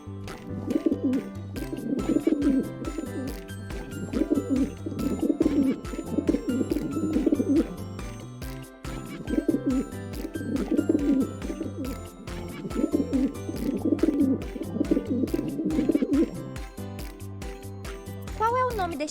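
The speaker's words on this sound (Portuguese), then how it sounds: "Muito bem, é o pombo." Repeated soft pigeon cooing in rhythmic phrases, steady and fairly close, running throughout with short pauses between bursts; presented as a garden animal sound.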